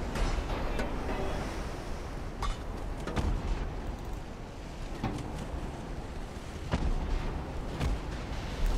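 Naval gunfire from battleships in Ultimate Admiral: Dreadnoughts, with shells hitting ships: a steady roar of sea and wind carries heavy booms and impacts that land every second or two over nearly nine seconds.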